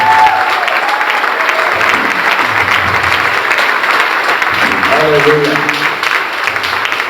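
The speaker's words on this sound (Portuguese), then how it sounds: "Pode ser mais forte esse aplauso a ele." Sustained, loud applause from a church congregation at a congress in Paraná, continuous throughout, with a voice speaking briefly over the clapping and some musical tones in the background.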